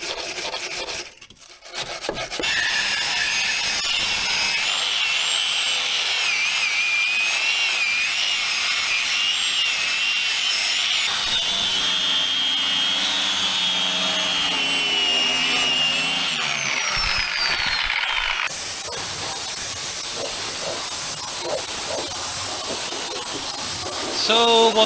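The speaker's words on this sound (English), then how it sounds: "I took the grinder and just grinded off the dry rust until the metal was clean" An angle grinder grinds dry rust off the metal of a Scania 143H V8 truck, a sustained high-pitched whine that shifts in pitch as it presses and eases, close and loud, with a brief rustle before it starts.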